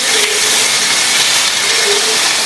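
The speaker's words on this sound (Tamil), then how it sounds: "தாளிப்பா சட்னியில சேர்க்கிறேன்." Hot oil tempering of mustard seeds, chopped curry leaves and asafoetida powder poured for a chutney, giving a steady, loud broadband sizzle and hiss close by without a break.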